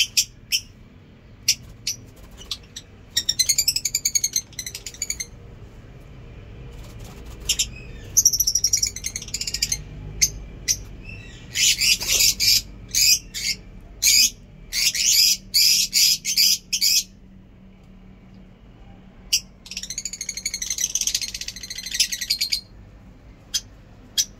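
A lovebird chirps on a rainy day, its close, sharp high tweets arriving in quick irregular bursts with short quiet gaps between them. No other sounds accompany them.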